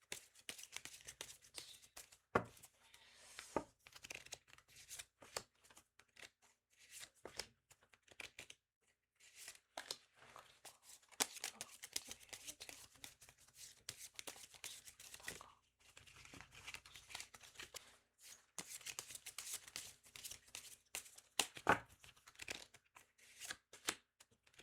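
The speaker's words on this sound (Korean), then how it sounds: "카드를 한번 추가로 뽑아보도록 할게요" Tarot cards being shuffled and drawn give a soft, papery rustle and crinkle in irregular bursts, quiet and close, with brief pauses between handfuls and no talking.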